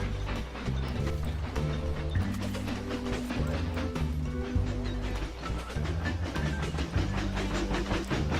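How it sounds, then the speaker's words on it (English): Train running in the Mashinky video game, a steady, continuous rumble with rhythmic clacking and layered tonal hum that holds at an even loudness throughout, with no talking. "There's actually a way to ride these trains."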